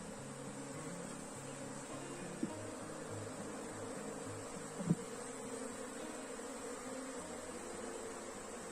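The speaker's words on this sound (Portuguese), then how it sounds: "Tem bastante abelha." Honey bees buzz around a hive in a quiet, continuous drone with wavering tones, faint and close, joined by a couple of brief sharp clicks.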